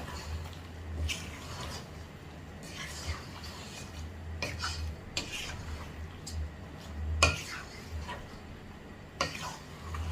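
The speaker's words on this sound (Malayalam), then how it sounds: "ഞാൻ തവി ഉപയോഗിച്ച് എല്ലാം കൂടി ഒന്ന് ഇളക്കി യോജിപ്പിച്ച് കൊടുക്കുന്നുണ്ട്." A ladle stirring chicken and potato curry in a pot, soft intermittent scrapes and light clinks against the metal at a quiet, close level, with no voices.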